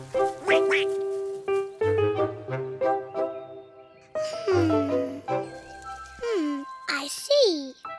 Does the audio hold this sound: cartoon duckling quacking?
yes